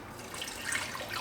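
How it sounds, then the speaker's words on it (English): Sink tap water runs steadily at moderate volume while nut milk is being prepared, a continuous hiss and trickle with no voices. "I am using sink water every time."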